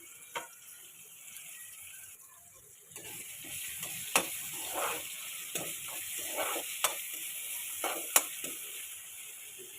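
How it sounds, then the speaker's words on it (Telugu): Sliced onion and long-cut green chillies fry in hot oil with a steady soft sizzle, punctuated by occasional sharp clicks and taps of stirring in the pan. "అలాగే పచ్చిమిర్చి ఒక 4 పొడవుగా కట్ చేసుకొని ఆయిల్లో వేసుకొని ఫ్రై చేసుకోవాలి."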